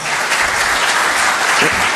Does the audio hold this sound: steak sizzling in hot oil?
no